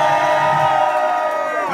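A live concert crowd in Denver screams and cheers, a loud sustained roar of many voices filling the room throughout.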